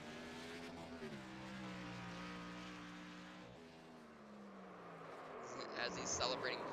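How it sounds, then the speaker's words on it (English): Race car engine droning and shifting pitch as it drifts through corners at Lakeland during an ISRC championship celebration, heard at a distance beneath a commentator's talk, with crowd noise rising at the end. "As he's celebrating, drifting through the corners."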